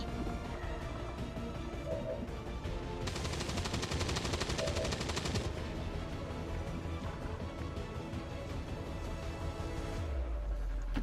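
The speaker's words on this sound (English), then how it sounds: "we can shoot at some of the lost" Rapid automatic gunfire from soldiers in the video game XCOM 2, a dense sustained burst of shots in the middle of the clip over continuous game noise and music.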